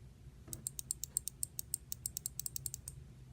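A 5 amp micro switch from an AK blaster mod clicks about twenty times in a quick, fairly even run, each click crisp, close and sharp over a faint low background hum.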